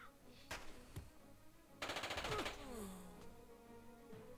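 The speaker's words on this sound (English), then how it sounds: "Did he just shoot a civilian?" Gunfire in the Jagged Alliance 2 video game: a sharp single shot, another brief crack, then a rapid burst of automatic fire about halfway through, followed by quieter game sounds and a voice.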